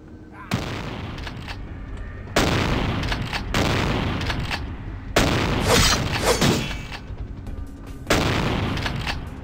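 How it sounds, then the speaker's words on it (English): Gunfire in the video game Vampire The Masquerade: Bloodlines shoots through a wall, loud booming bursts of shots arriving in four heavy blasts separated by short quiet gaps. "You're shooting me through the wall."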